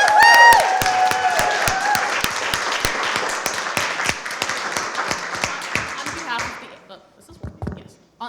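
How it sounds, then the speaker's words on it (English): A symposium audience applauds the panelists, a dense burst of many hands clapping that thins out and fades to a few scattered claps. "let's give our panelists one final round of applause"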